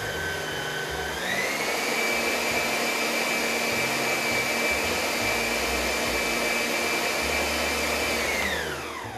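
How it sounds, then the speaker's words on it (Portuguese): Electric mixer beating panettone dough with dried fruit mixed in; the motor spins up, whirs at a steady loud pitch for several seconds, then winds down. "E vou bater aqui só para dar uma misturadinha."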